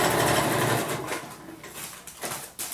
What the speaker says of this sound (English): I am going to take a 1/4 inch seam line